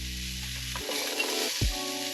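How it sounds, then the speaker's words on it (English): Pancetta or guanciale frying with browned, sugared onions in a pan for bucatini all'amatriciana crackles in a continuous, moderate sizzle with a few stirring bumps, alongside steady tonal background sounds. "Once they have some nice color, we can throw in our pancetta or guanciale."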